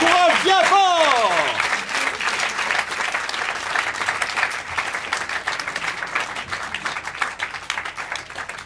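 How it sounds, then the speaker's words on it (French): An audience at an improv theater festival show in Paris breaks into sustained applause. It begins loud over a host's raised voice, then continues as dense clapping from a full room that gradually tapers off. "on va applaudir mademoiselle qui spontanément se lève"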